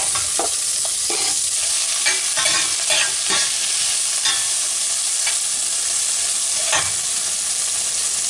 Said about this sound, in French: On fait revenir un bel oignon émincé.